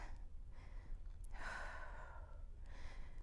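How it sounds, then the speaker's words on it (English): Heavy, breathy exhales close to a microphone during a HIIT and back-strengthening workout, with one strong gust in the middle over a steady low background hum. "I apologize for like breathing into my mic here"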